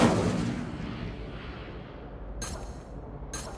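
Incendio fire spell cast in the Hogwarts Legacy video game: a loud burst fading into a low rumbling roar over a few seconds, followed by two brief crackling flares.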